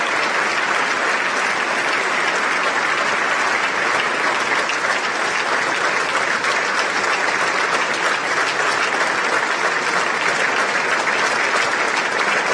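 Unbroken, loud ovation from a big political audience, a thick wash of many hands clapping at an even level from start to finish.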